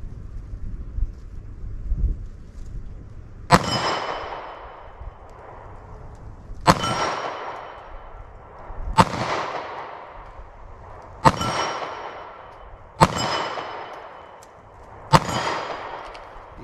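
Six 9mm Federal HST rounds are fired from a 3.2-inch barrel into ballistic gel outdoors, each a sharp, loud crack followed by a rolling echo, spaced a couple of seconds apart.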